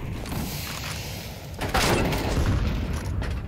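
A grenade explodes during a professional Counter-Strike 2 match, a dull booming burst rising out of steady background game noise partway through.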